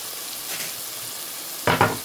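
Tomato and green onion hit hot oil with ginger and garlic, a steady soft sizzle building to a loud burst of frying as the vegetables land in the pan near the end.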